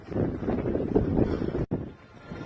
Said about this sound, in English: So it's a little bit windy up here.